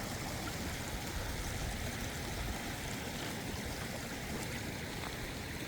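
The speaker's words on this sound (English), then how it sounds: "It's a nice clear creek." Steady flowing water of a clear mountain creek, a continuous broadband rush and babble running evenly throughout with no voices.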